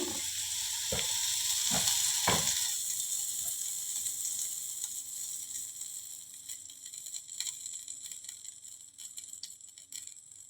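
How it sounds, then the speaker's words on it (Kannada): Oil heats in a home kitchen pan for tempering while dinner is being cooked, giving a steady close sizzling hiss with a few sharp clanks near the start and no talking. "ಈಗ ಮತ್ತೆ ಒಗ್ಗರ್ನಿಗೆ ಎಷ್ಟು ಬೇಕಷ್ಟ ಎಣ್ಣೆ ಹಾಕ್ಕೊಳಕತ್ತೀನಿ"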